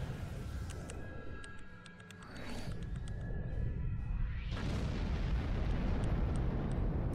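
A heavy torpedo explodes in the Star Trek Online space combat game, a deep rumbling blast with sweeping whooshes over a constant low roar, fairly faint overall.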